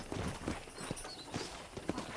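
Horse hooves clip-clop in a quick, steady rhythm, close and distinct, with no other sounds, in the video game Red Dead Redemption.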